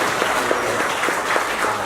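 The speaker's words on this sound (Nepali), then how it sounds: "ताली बजाइदिनु भयो।" Audience at a church youth conference in Lancaster clapping steadily, a dense, close burst of applause with no pauses.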